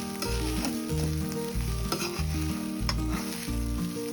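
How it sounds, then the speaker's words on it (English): Leftover rice stir fry with sweet plantains being stirred in a greased pan, a continuous loud sizzle and frying hiss under steady scraping strokes, with a repeating low mechanical hum running underneath. "So I will just keep stirring this."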